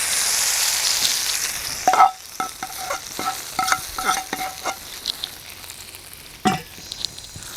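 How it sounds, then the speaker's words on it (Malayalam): A sizzling spice tempering poured over cooked tapioca, a bright initial hiss that gives way to crackling spits and scattered spoon taps, with a sharp clink near the end. "കപ്പയുടെ മുകളിലേക്ക് ഈ വറവങ്ങ് ഒഴിച്ചു കൊടുക്കാം"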